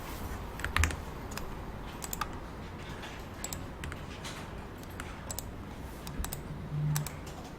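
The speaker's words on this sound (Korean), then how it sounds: "마이크의 판매 금액이라고 써줄게요." Quiet keystrokes tapping on a computer keyboard during an Excel spreadsheet lesson, an irregular run of soft clicks with a few louder presses, with no one speaking.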